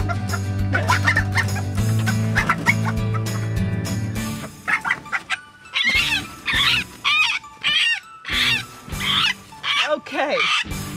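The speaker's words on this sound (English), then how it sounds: "I got a new bird in the cage." Bantam chickens in a cage cluck and squawk up close in short, loud, choppy bursts with gaps between calls, following a stretch of steady low mechanical hum.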